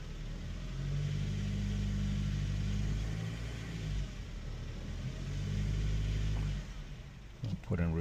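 The engine of a 2009 Honda Civic that is overheating rises in two long, steady revs while held in gear, each holding a low hum before easing off, with a voice speaking over it.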